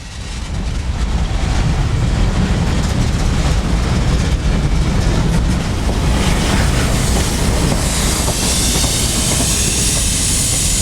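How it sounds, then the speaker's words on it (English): A long freight train of boxcars from a logistics spur rolls past close by in hot central Florida, a steady loud rumble and rattle of wheels and cars that holds for the whole stretch. "This train came off the Park Spur with a ton of boxcars from Saddle Creek Logistics"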